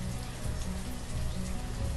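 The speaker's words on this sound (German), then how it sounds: "bei dem Regenwetter, was schon wieder da ist" Steady rain in the city-building game Banished patters evenly on surfaces, a constant soft hiss of droplets with a low rumble beneath and no voices.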